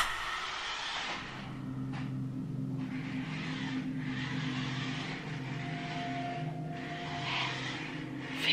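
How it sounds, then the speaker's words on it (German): A small motor whines steadily, like a toy car driving around somewhere in a room at night, with a high buzzing tone that swells and fades slightly over several seconds and continues without stopping. "Fährt hier ein Spielzeugauto rum?"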